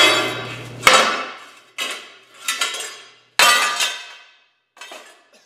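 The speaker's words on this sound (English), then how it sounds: "this we should be able to smack off with a hammer" Several sharp metallic hammer blows on a rusted metal wheel ring out one at a time, each clang decaying before the next, with a short pause between strikes.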